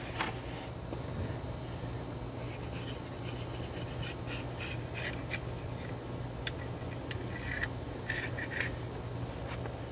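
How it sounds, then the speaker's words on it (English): A razor blade scrapes old gasket material off a Ford differential cover, using oil as a lubricant. It makes a steady, close rasping scrape with a few sharp ticks and no talking. "And I use these razor blades to get the majority of the bulk off of it."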